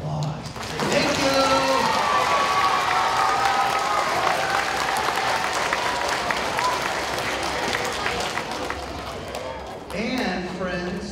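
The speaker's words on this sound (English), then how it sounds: "Let's give them a round of applause." A school audience at a closing reading event gives loud, sustained applause for teachers and staff, with a voice speaking briefly at the start and again as the clapping fades near the end.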